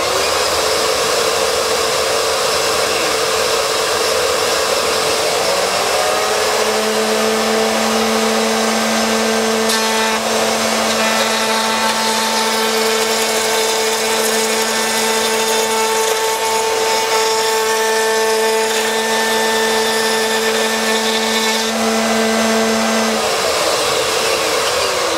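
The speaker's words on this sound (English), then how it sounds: "so I can actually turn the switch on underneath the router" Router mounted in a router lift runs at 13,000 RPM and makes a cut, a loud steady whine and roar of rushing air throughout, with a slight pitch shift as the bit bites into the wood.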